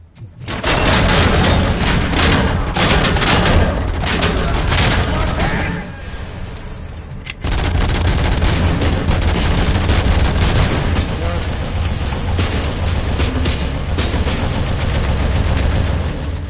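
Turret gunfire in the Robocop video game pours out as dense, loud, continuous automatic bursts with booming impacts, dipping briefly midway before resuming at full intensity.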